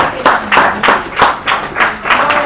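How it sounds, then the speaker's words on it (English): Audience applause and cheering for Mark Forrester and Magnus Jepson of WooThemes at a Startup Grind Cape Town event, a loud crowd clapping in repeated surges with a few rhythmic, sharper claps standing out. "Give them a round of applause."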